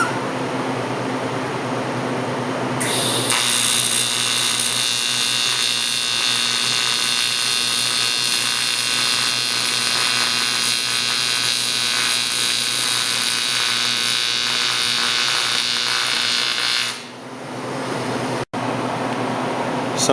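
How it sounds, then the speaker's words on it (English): A steel drum lid is welded along its sides, giving a continuous loud crackling hiss that holds steady for about fourteen seconds before cutting off, with no talking. "So now I'm welding the sides of the lid onto the lid here."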